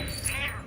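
A brief cat meow rises over a low rumbling film soundtrack as a pirate-costumed cat appears in the Monster Hunter movie, the call short and mid-loud.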